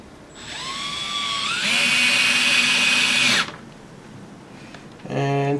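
A power drill drives screws into a guitar during a rebuild: a high whine spins up, rises in pitch and holds loud for a couple of seconds, then cuts off, followed by a short second burst.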